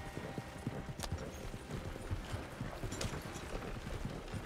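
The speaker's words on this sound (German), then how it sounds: "Wie man hier einfach mit einer Kutsche fährt." Horse-drawn carriage rolling along in Red Dead Redemption 2, with steady, close clip-clop of hooves and faint creaking and rattling of the wheels and harness, continuous throughout.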